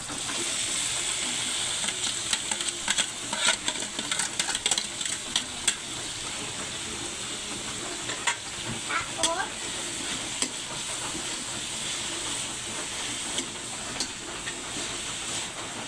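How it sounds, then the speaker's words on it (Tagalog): Kamansi (breadfruit) sautéing in a pan, a steady close sizzle with scraping stir strokes and occasional clinks, continuous and alone without talk. "gigisa ko na po yung kamansi"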